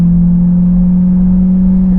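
Steady, loud low-pitched engine drone from a Chevrolet Corvette C8 Stingray, heard up close and continuous without voices.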